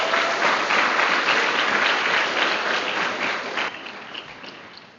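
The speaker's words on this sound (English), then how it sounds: "Let's give her another round of applause" Full audience applause at a commencement ceremony, loud and continuous, then gradually thinning and fading toward the end.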